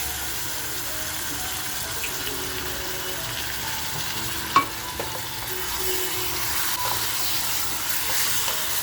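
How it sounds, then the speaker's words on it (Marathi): Marinated mutton frying in a pan for mutton kharda, a continuous even sizzle with one brief utensil knock partway through, close and steady, with no voices. "असं फ्राय करून घेऊया."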